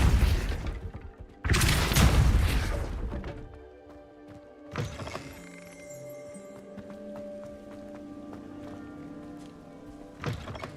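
Depulso spell in the video game Hogwarts Legacy: heavy booming thuds and a forceful whoosh at the start, then a sharp knock and lingering resonant rumble, with another thump near the end.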